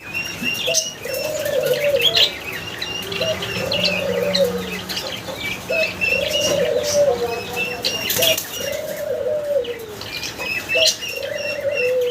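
Pigeons coo repeatedly in a steady rhythm nearby while one feeds its chick, with chirps and occasional wing flaps mixed in.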